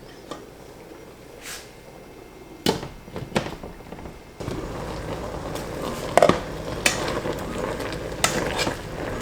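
Spoon stirring collard greens with ham hocks in a simmering pot, with irregular scraping and clinking strokes over a steady bubbling sizzle that grows louder partway through.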